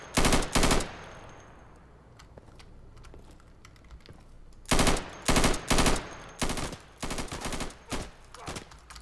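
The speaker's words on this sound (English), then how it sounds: "So this guy shooting at me must have an LMG of some sort." Light machine gun fire in the shooter game Insurgency arrives as short, fairly quiet rattling bursts: a quick pair at the start, a lull, then a run of several clipped bursts toward the end.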